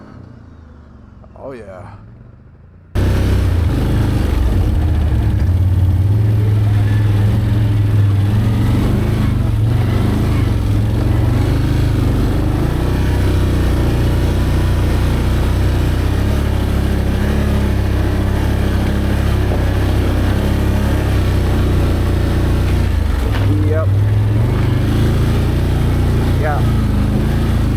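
An ATV engine laboring up a hill in low four, a loud close droning rumble that swells and eases as the machine climbs, with a brief quieter start and a rider briefly speaking over it.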